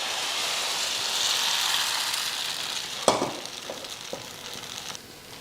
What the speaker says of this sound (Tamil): இதில் ஒரு கரண்டியை ஊற்றி அப்படியே சுற்றி வச்சு விட்ருவோம்.